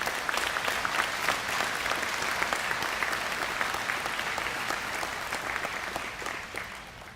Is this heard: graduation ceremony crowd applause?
yes